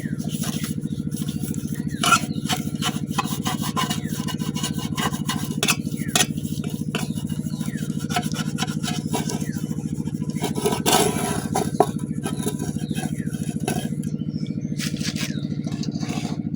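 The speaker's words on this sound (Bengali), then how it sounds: "এনে পেপারের উপরে অল্প তেল মাখাই নিতেছি" Soft scraping and rubbing as oil is spread over baking paper lining a pan, with irregular light scratches and occasional taps over a steady low hum.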